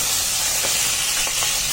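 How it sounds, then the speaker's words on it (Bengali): Tangra fish frying one by one in hot oil in a wok, with a steady, bright sizzling hiss and a few soft crackles and pops, close and continuous with no voices. "এবার এক এক করে ট্যাংরা মাছগুলোকে আমি ভেজে নিচ্ছি।"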